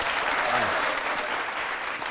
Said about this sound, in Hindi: ताली बजाइए इस पर, बहुत बढ़िया